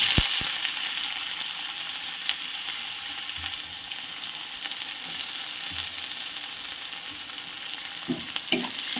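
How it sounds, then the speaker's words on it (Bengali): Chopped onion frying in oil in a kadai while being stirred, a dense continuous sizzle with faint scraping strokes and a couple of clanks near the end. "এবার আমি দেব"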